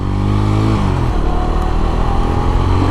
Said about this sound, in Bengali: বাইকটা এখন পারফেক্টলি রান করতেছে।